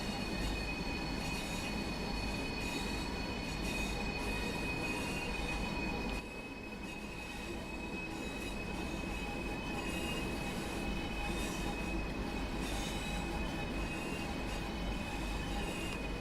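A Pacer model train runs a full loop on a tight, sharply curved track at the Dresden Park miniature railway, with steady rolling wheel noise and high wheel squeal throughout, fairly close and continuous.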